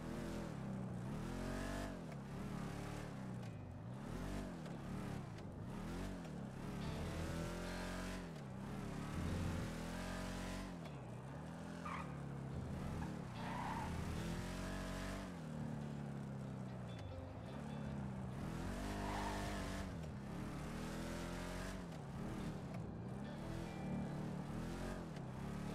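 A car in a video game races along with a loud, continuous engine roar that swells and dips repeatedly as it revs and slides, while someone talks quietly underneath.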